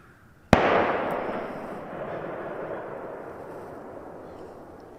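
A single deer hunter's rifle shot during Tennessee gun season, one sharp report followed by a long rolling echo that slowly fades across the woods, heard at some distance with no talk.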